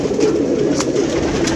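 Pigeons coo in a loft, a close, steady low murmur of soft calls lasting under two seconds.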